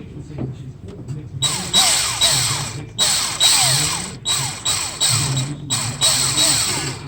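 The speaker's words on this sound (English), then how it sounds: "Worst case, I'll just drill all the way through the damn thing." A power drill working through a seized 6.7 EGR bolt, several loud sustained bursts with brief pauses between them, and faint handling noise before the first run.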